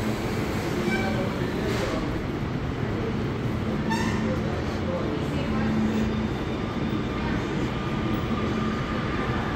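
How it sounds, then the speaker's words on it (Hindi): A driverless automatic metro train in Spain rumbles steadily along the track, with faint intermittent squeals and brief tonal chimes over the continuous rolling noise. "ये बिना ड्राइवर की ऑटोमेटिक चलने वाली ट्रेन है"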